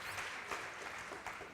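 Steady clapping from a crowd, a dense even patter of many hands throughout with no voices on top.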